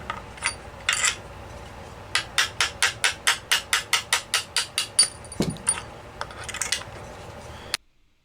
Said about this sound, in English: I'm going to go ahead and push these bushings back out.